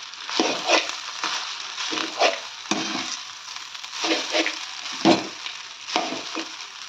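Leftover rice tossed with coriander powder and peanuts is stirred in a hot pan, a spoon scraping and sizzling in repeated close strokes with no talking.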